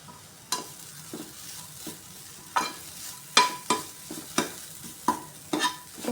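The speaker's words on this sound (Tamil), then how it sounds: "நான் முந்திரி திராட்சை வறுத்த நெய்யிலே வதக்கி எடுத்துக்கிறேன்." Sweet potato pieces sautéed in ghee for a sweet potato payasam sizzle quietly while a spoon scrapes the pan in repeated, fairly regular strokes that grow louder toward the middle, with no talking.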